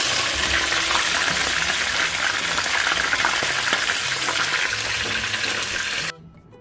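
Prawns fry in Filippo Berio olive oil with a loud, steady crackling sizzle that holds for about six seconds, then stops abruptly.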